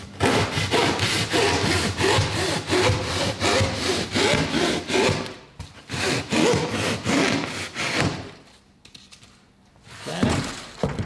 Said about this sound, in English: I just use a little handheld saw like this,